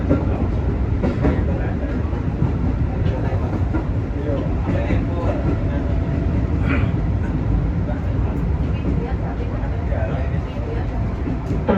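A JR 205 series commuter train runs on rails near Lampuyangan station with a steady, loud rumble and rattle throughout, and a station announcement voice is heard over it.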